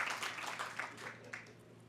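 Audience applause at a city groundbreaking ceremony for a fiber optic network in Carson, a fairly quiet, distant patter of clapping from an outdoor crowd over low background hum.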